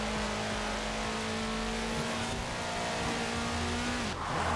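A car engine hums at steady pitch while driving in Forza Horizon 4 on a slippery road, then the pitch drops sharply near the end as the revs fall, loud and continuous.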